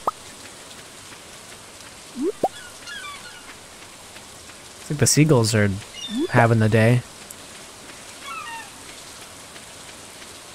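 Steady rainfall patters in Stardew Valley as a soft, continuous hiss in the background, with a person talking over it and small game chirps and calls popping up now and then.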